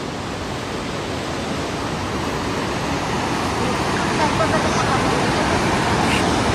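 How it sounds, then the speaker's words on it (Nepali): A waterfall near Syange, Nepal pours out a steady, close broadband roar that holds at an even level throughout and swells slightly toward the end. "यही होला स्याङ्गेको झरना हो कि के हो"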